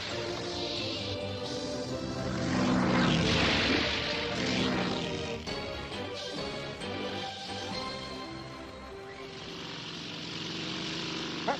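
A small propeller airplane in a cartoon drones steadily overhead, its engine swelling louder and then easing, loud and continuous with no voices.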